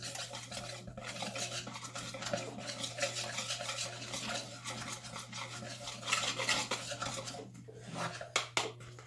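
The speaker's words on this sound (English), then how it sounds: "Keeping an eye on your milk and sugar and whisking frequently" A whisk works through milk and sugar in a pot, giving fast, close scraping and swishing strokes against the metal in an even rhythm, fairly quiet, with a faint steady hum underneath and a few sharper clinks near the end.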